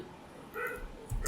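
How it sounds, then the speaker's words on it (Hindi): Dogs bark in short outbursts at a distance, a couple of yips and barks breaking through a quiet indoor background. "अरे यार ये कुत्ता लोग काहे भौंक रहा है यार"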